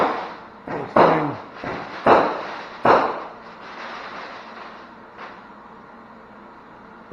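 Fireworks going off outdoors at night, with several loud, sharp bangs in the first three seconds, then fainter scattered pops and a lingering crackling rumble.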